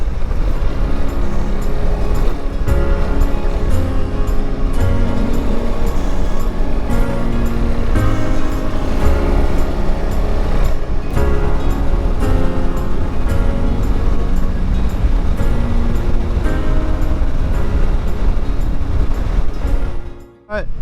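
A Honda CRF 300 Rally motorcycle rides along a beach, its engine droning loud and continuous under heavy wind buffeting for the whole stretch, cutting off abruptly at the end.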